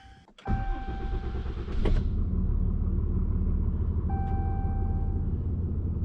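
A Ram 3500 HO pickup truck cranks over with a short starter burst, catches and settles into a steady, fairly loud engine idle close by, with a chime and a brief electronic tone sounding over the rumble.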